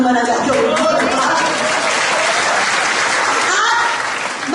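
A business club presentation audience applauds in one loud, dense burst of clapping that holds steady and close for several seconds, then eases slightly at the end, with no talk over it.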